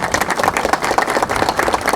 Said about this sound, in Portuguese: Isso sim merece o nosso aplauso.